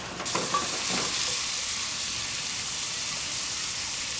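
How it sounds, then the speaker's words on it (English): A steady, close hiss and crackle of vegetables frying in hot oil, with a brief stirring scrape at the start. "And while you're frying up all your vegetables,"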